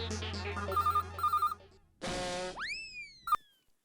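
A telephone rings in a Hindi family comedy scene, a short electronic ringtone of repeated beeping tones ending with a rising boing-like chime, brief and clear with no talk.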